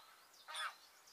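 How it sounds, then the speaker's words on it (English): A single goose honk rings out at a distance beside a carp fishing lake, one short, faint call against quiet outdoor background. "As you can hear, the geese are going absolutely crazy for some reason."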